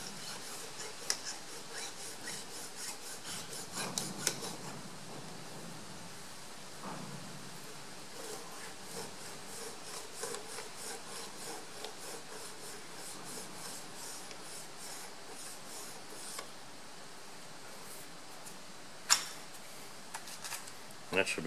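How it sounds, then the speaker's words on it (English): A metal workpiece being deburred with a hand file, heard as soft repeated rasping strokes at a steady rhythm under constant background noise, with a few louder clicks and knocks. "We'll just deburr again."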